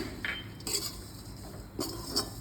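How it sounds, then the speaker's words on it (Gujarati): Ajwain being stirred into a hot mukhvas mixture of roasted seeds in a pan, giving scraping, clinking spoon strokes against metal at an uneven pace, close and moderately loud, with no talking. "અને બરાબર હલાવી લઈએ"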